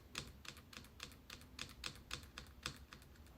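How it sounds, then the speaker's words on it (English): The right arrow key on a computer keyboard is tapped repeatedly, about a dozen quick, light clicks at an uneven rhythm, close and faint with no talking. "So I'm going to use the right arrow key to move forward"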